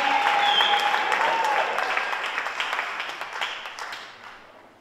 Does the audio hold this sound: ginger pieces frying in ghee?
no